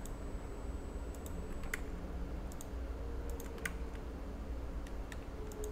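A computer mouse clicks sharply now and then during CAD modelling, some clicks single and some in quick pairs, over a low steady room hum.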